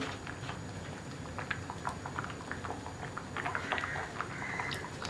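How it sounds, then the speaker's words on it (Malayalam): Soft bubbling and popping of a pot of sambar simmering on the stove, steady and close, with faint clinks in the background. "ഇപ്പോൾ നമ്മുടെ സാമ്പാർ തിളച്ചുകൊണ്ടിരിക്കുന്നുണ്ട്"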